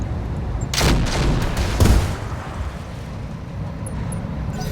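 Mech weapons firing in the Roguetech/Battletech game with Cataphract mechs: a few loud broadband bursts around the middle, then a steady rumbling battle ambience that continues to the end.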